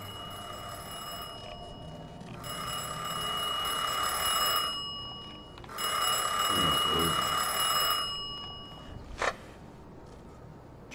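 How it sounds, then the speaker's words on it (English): A ringing telephone in the video game Mafia 2, heard as two long bursts of an electric bell trilling with a steady buzzing tone and a pause between them, followed by a short click. "Answer the phone."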